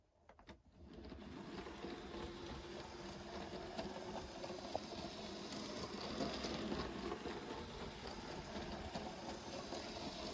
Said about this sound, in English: now let's see how it performs at low speed